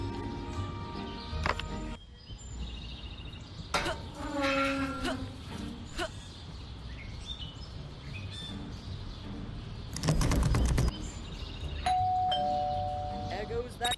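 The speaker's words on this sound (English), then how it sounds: "There goes that stupid bell again." A doorbell rings in the Scary Teacher 3D video game, sounding in several bright tonal bursts amid game effects and other chimes, with spoken voice in places.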